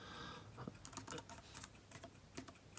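Keystrokes clatter at an uneven pace on a backlit keyboard case with touchpad for an iPad Air 4, a run of quick clicky taps heard up close with no talking.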